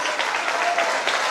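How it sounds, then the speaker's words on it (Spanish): An audience claps in a brief, dense burst of applause, heard alone without talking over it. "Elvira Aguilar, para vos te aplauso."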